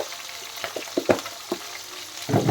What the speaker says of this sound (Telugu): అల్లం వెల్లుల్లి పేస్ట్ ఇవన్నీ వేగాలి